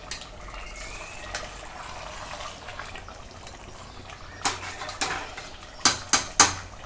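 A Kerala chicken curry is stirred in a pot over high heat: a quiet bubbling simmer, then several sharp metal clanks of the ladle against the pot near the end.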